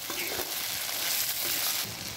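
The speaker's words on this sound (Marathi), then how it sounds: "तर तेलात चांगलं असं भाजून घ्यायचं." Beans and turmeric frying in oil in a pan over a wood-fired stove, a steady close sizzle and crackle throughout without talk.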